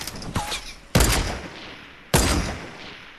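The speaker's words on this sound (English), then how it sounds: "He's gonna shoot it down!" Gunfire in a video game: a short initial pop followed by two loud, heavy shots about a second apart, each with a long echoing decay, with no talking.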